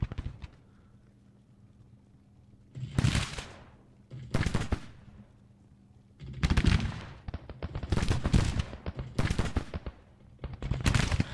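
Rolling musket volleys and crackling rifle fire from a Grand Tactician: The Civil War 1861-1865 battle come in dense bursts separated by brief lulls, loud and continuous without voices.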